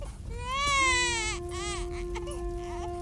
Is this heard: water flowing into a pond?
no